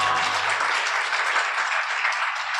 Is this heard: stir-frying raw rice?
no